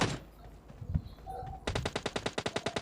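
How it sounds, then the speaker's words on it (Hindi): Automatic gunfire in PUBG Mobile Lite gameplay, a rapid burst of about ten evenly spaced shots following quieter game ambience and a brief earlier shot. "मेरे को राइट साइड से फायरिंग पड़ी"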